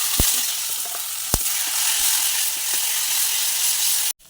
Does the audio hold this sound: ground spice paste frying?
yes